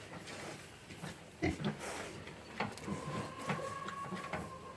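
A young three-quarter Berkshire boar piglet gives several short, scattered grunts and snorts, fairly faint against a quiet farm background with some light clatter.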